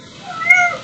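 A domestic cat gives a single short, clear meow that rises and then falls, close and alone in a quiet room.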